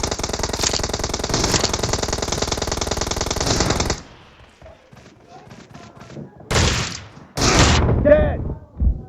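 An M1014 shotgun fires during a PUBG Mobile team deathmatch. Dense, loud firing runs for several seconds, then comes a quieter stretch and two heavy blasts, with a voice speaking in between.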